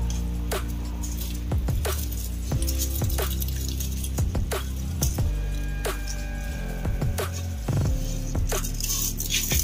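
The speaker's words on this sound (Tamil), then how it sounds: "இப்போ இந்த ரைஸை வந்து நம்ம இப்போ ஆட் பண்ணிக்கலாம்." Soaked, drained rice goes into a pot of boiling water for Dindigul Thalappakatti chicken biryani. Wet, splashy drops and patters sound at irregular intervals over a steady bubbling hiss, close and moderately loud, with no talk.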